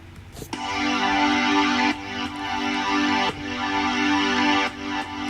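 Synth pad in a Cubase mix heavily side-chain compressed by a kick drum, its level ducking sharply with each kick hit then swelling back in a regular pumping rhythm, loud and close with no voices.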